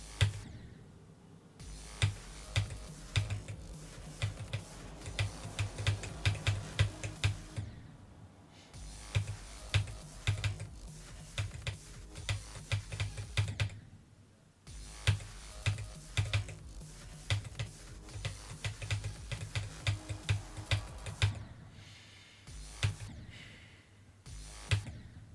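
Rapid typing on a computer keyboard, bursts of clattering keystrokes separated by short pauses, close and fairly loud, with no talking.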